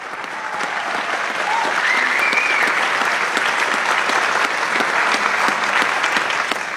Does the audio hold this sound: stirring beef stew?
no